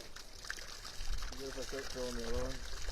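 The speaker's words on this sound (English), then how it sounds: "taking that hose to fill in the other pool" Water from a hose pours into a backyard kiddie pool, a steady splashing trickle running throughout at close range, with a person talking over it.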